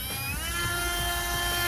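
A drill bit grinds into a golf driver head, a loud, steady high-pitched whine running without a break throughout, close up.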